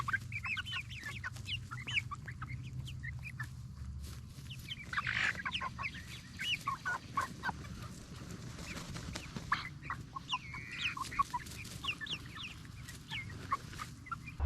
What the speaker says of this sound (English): They are definitely the friendliest chickens ever.